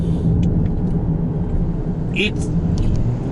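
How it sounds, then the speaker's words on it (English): A 2019 Toyota Corolla (TNGA) engine works hard climbing the Genting hill road, a steady loud low drone with road rumble throughout. "the engine is working really hard"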